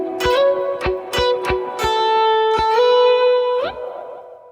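An electric guitar plays a blues lick: sharply picked, palm-muted notes with a gritty tone, sliding pitch moves between them, and a final slide upward into a sustained ringing note, loud and up close.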